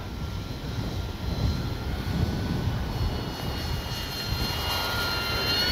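A model Corsair warplane, radio-controlled, flying at high speed on a windy day, its engine droning steadily and swelling slightly as it passes, carried at moderate distance with no talk over it.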